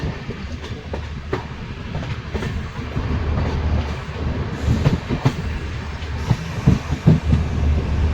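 Inside a general coach of the 13154 Gour Express from Malda to Sealdah on a cold winter night near New Farakka Junction: a steady, loud rumble with rhythmic clickety-clack of wheels over rail joints.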